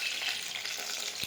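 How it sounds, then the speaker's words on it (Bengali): Chicken pakoras fry in hot oil, giving a steady, close hiss of bubbling oil that stays even and unbroken for just over a second, with no voices. "তো পকোড়াগুলো আমার লাল লাল করে ভাজা হয়ে গেছে"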